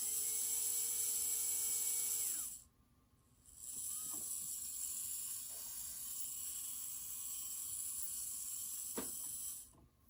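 The small motor from an HO scale steam engine kit runs on test with a thin, steady high whine and faint mechanical whirr. It stops briefly, then spins up again and runs evenly before cutting off.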